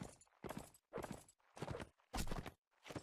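A horse's hooves clip-clop over rough terrain in Mount & Blade: Warband, a faint, evenly spaced run of about six soft thuds.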